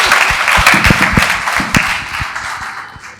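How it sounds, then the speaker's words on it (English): An audience claps at an aquaculture launching ceremony in Ghana: a close, loud burst of many hands with sharp individual claps standing out, tapering off toward the end. "Let's give her a clap."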